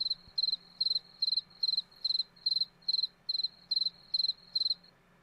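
Crickets chirping as a sound effect: a steady, evenly spaced series of high, trilling bursts, about a dozen in succession, clear and alone against a quiet background.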